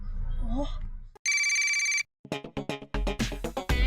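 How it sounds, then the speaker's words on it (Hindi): A telephone rings in a short, loud electronic burst of under a second as a call is placed in a Hindi television drama, preceded by music and followed by lively speech. "मोंटू बॉस को फोन लगा"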